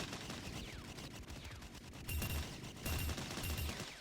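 Automatic gunfire crackles in a shooting video game, with repeated rapid bursts and shots that grow louder and heavier toward the end, with no talk.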